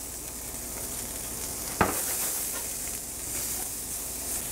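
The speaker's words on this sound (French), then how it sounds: "Maintenant, je dépose les oignons dans la poêle." Onions drop into hot olive oil in a frying pan, giving a sharp crackle as they land, then settling into a steady, close sizzle that keeps up alone for several seconds.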